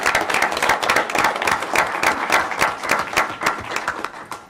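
An audience at a school district board meeting breaks into sustained applause, dense rapid clapping from many hands that stays loud and then eases off toward the end.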